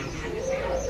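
Pakistani pigeons give a soft, close coo, one steady low call held through a brief moment with faint background noise.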